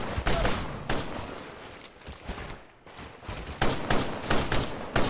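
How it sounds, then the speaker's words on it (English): Gunfire in the video game Titanfall: rapid bursts of automatic shots and sharp cracks, loud and close, with a short lull in the middle before the firing picks up again. "You need to quit shooting at me"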